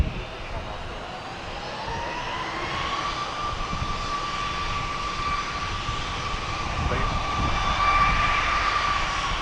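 At Logan Airport, an aircraft engine spools up with a rising whine that builds steadily and grows louder toward the end, heard at a distance over a continuous broadband roar.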